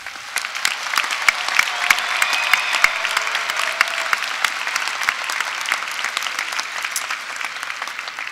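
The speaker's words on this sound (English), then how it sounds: "Please join me in giving these graduates a round of applause." Sustained audience applause for graduates at a University of Louisville graduation ceremony, a dense, steady wash of many hands clapping that holds evenly throughout with no talk over it.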